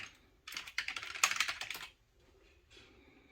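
Apple ID being typed on a computer keyboard: a quick run of close, crisp key clicks for about a second and a half, then a short pause and a few softer taps.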